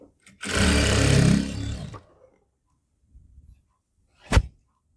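A sewing machine stitching elastic onto pants runs loudly and close for about a second and a half, then goes quiet. A single dull thump follows a few seconds later.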